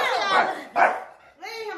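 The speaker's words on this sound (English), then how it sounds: "he'll stop barking at you" A pet dog barks a few times at close range, sharp yaps broken by short gaps, with a little whimpering tone near the end.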